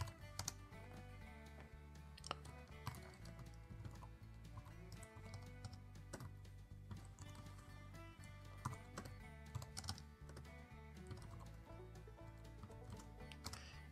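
Rapid, steady keystrokes on a computer keyboard while a Haskell language server config is typed on FreeBSD, continuous throughout and mixed with a dense, constant background of music.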